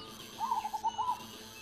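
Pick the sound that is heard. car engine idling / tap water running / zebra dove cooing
zebra dove cooing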